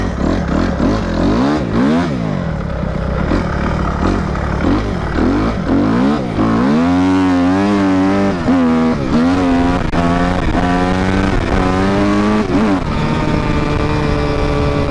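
A Kawasaki KXF 250 dirt bike engine revs hard while being ridden, rising and falling in pitch through repeated gear changes, loud and close throughout with no talking.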